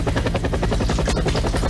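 Close, loud helicopter with rapid pulsing rotor thumps, heard in a Spanish-language comedy scene.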